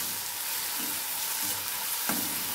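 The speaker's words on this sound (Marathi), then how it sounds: "टमाटा पण छान हलवून घ्यायचंय मस्त" Chopped tomato sizzles loudly in a hot pan, with a steady frying hiss and a few scraping stirs, and no talking.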